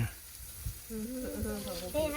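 Pork sizzles on a Thai moo kratha grill during an overnight stay out at the rice fields: a soft, steady crackle up close, partly under a voice speaking or humming in the background.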